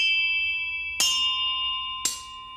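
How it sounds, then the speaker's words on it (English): Backup signal bells in the London Bridge railway signal box strike twice about a second apart. Each sharp, loud hit gives way to clear, sustained ringing tones at several different pitches. "There were some backup bells, and they've all got different tones."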